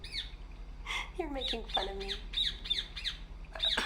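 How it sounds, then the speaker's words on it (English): A bird in the video game République squawks in a run of harsh, rapid calls, fairly close, while a voice speaks over part of it. "What the hell's up with that bird?"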